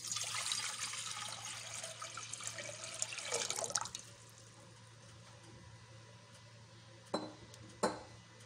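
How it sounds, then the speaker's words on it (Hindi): One litre of water is poured into a cooking pot for a summer plum drink, a loud rushing splash for about four seconds, then quiet with two brief knocks of the pot afterward. "बर्तन में हम 1 लीटर पानी डालेंगे,"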